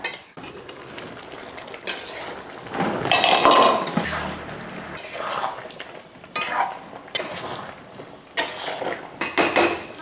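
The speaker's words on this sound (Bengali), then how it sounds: "পাঁচ মিনিট পর পর এইভাবে ঢাকাটা উঠিয়ে নাড়িয়ে দিতে হবে" Metal lid lifted off and set back on a pot of Bengali-style duck curry, with clinking pot-and-utensil knocks and scraping stirring in bursts through the clip, fairly close, no talk.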